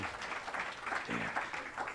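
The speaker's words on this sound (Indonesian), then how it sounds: "Beri tepuk tangan buat mereka-mereka ini, luar biasa sekali." An audience at a church thanksgiving retreat applauds the logistics team, faint dense clapping running steadily for a couple of seconds with a little crowd murmur.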